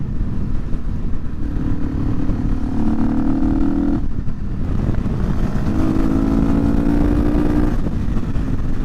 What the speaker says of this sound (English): With the airbox lid removed, you can really hear it suck.